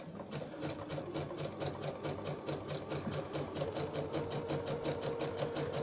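A sewing machine stitches fabric for a makeup bag with a steady, rapid, even clatter that runs without a break, close and clear, with no talk over it.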